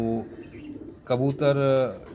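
Pigeons, old Khairpur birds, give low cooing calls in a brief burst near the start and again in a longer stretch near the end, sounding close, with a quiet gap between.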